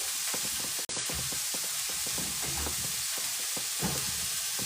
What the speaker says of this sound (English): I'm gonna add the pasta in.